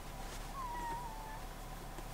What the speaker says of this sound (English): Hey, a little curious little cat.